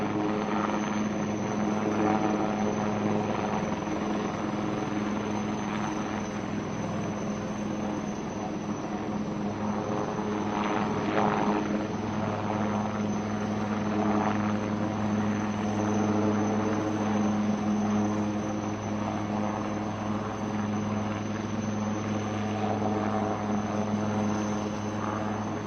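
An ALH helicopter hovers at a naval display, its rotor and engine producing a steady, loud, droning whine that holds constant throughout, with faint announcer speech in the background.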